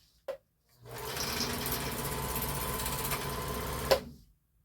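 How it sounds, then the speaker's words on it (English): A vintage sewing machine stitches in a steady, close, continuous mechanical whir lasting about three seconds. It begins after a brief click and ends with a sharp knock before stopping. "It's just not stitching right now."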